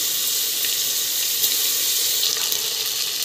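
Potatoes and green peas sautéing in a pan make a loud, steady sizzling hiss throughout, with faint scrapes of stirring now and then.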